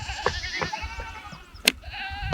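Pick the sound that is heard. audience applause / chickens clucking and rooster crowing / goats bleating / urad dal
goats bleating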